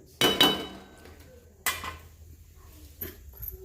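A spoon scrapes and clinks against a cooking pot while black soybean curry is stirred over medium heat, with two sharp metallic knocks followed by softer scraping and clatter.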